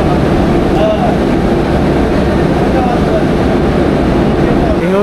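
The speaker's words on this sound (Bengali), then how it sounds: "এই ইঞ্জিন চলে এসছে।" A WAB 7 electric locomotive arrives at the station to couple onto the Sealdah–Darjeeling Mail, a continuous dense low rumble with faint squealing, close and loud throughout, with a brief voice heard over it.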